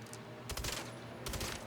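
Gunfire in the open-world video game MindsEye comes as two short, rapid bursts of automatic shots over a constant low background rumble, fairly faint and without talk.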